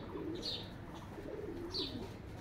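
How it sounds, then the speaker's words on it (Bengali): Pet pigeons at a village home give soft, low coos. Two brief higher chirps are also heard, and the whole thing is faint and close by, with no voices. "এই যে এটা হলো আমাদের কবুতর।"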